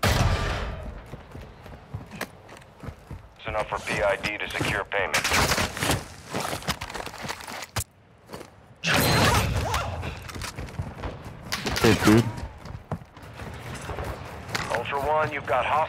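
Bursts of automatic gunfire and scattered single shots crackle repeatedly in the Call of Duty DMZ mode, some close and loud, others farther off, with players talking between and over the shooting.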